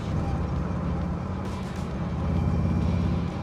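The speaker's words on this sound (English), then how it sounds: "You can hear those quick change gears whining." Engine and drivetrain of a 1932 Ford hot rod fitted with a quick change rear end and old speed parts, a steady loud rumbling drone with a faint gear whine running through it, continuous throughout.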